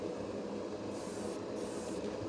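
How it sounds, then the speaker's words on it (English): An aerosol spray paint can hisses steadily at close range while coating kitbash model parts, a continuous airy spray sound with slight swells, alone with no talking. "spray off on the side first and go over your piece like that"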